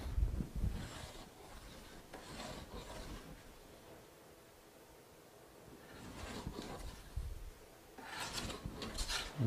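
A WoodRiver hand plane rubs across a piece of pine in soft, intermittent strokes, faint scraping bursts separated by quiet gaps.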